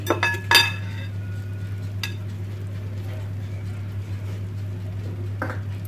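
Ground cocoa is stirred into cake batter in a bowl, a few sharp utensil clinks against the bowl at the start, then quieter scraping strokes over a low steady hum.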